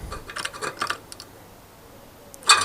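Metal door frame cladding is cut with snips in a quick run of sharp, close clicks and crunches, then a louder snap at the end.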